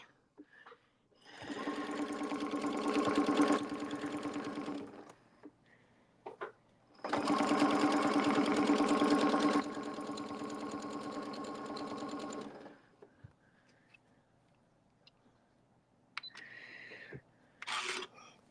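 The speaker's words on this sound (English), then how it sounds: "I'm going to go a few stitches forward and a few stitches back." A sewing machine runs in two long steady buzzing stretches, stitching a few stitches forward and then back while piecing a log cabin quilt pattern, close and loud, followed by quieter clicks and short mechanical whirs.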